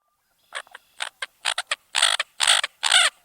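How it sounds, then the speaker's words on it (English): An American coot calls in a series of short, harsh, croaking notes, starting with sparse clicks and building to louder grouped bursts, played clearly with no talk over it. "It was an American coot."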